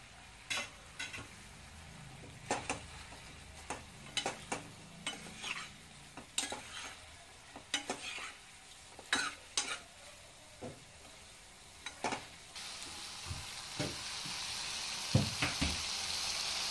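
Mushrooms fry in a pan for restaurant-style mushroom manchurian, a soft steady sizzle broken by frequent quick scraping stirs in an uneven rhythm, heard up close with no talking.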